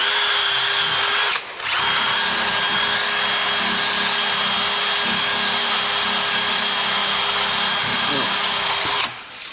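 A loud power tool buffs a 40-year-old narrowboat porthole, whining steadily for several seconds between brief cutoffs at the start and end, with a faint voice under it.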